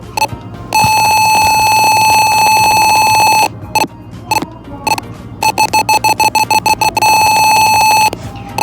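A buzzer alarm from an Arduino Uno ultrasonic distance sensor circuit simulated in Tinkercad, a loud steady electronic tone that sounds in long continuous stretches, then breaks into rapid evenly spaced beeps as the object gets closer.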